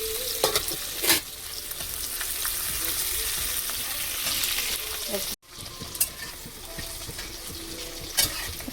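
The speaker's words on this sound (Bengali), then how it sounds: "পেঁয়াজটা একটু ভাজা ভাজা হয়ে গেলে টমেটো কুচি রেখেছি, টমেটো কুচি দেবো।" Chopped onions and potatoes sizzle steadily in oil in a pan while a fish curry is being cooked, with a few clinks of stirring and a brief pause partway through.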